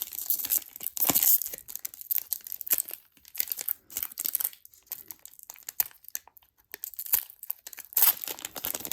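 Modern Horizons 3 Magic: The Gathering play booster pack wrappers torn open and crinkled by hand, a close run of sharp rips and crackling foil crumples in irregular bursts with brief pauses.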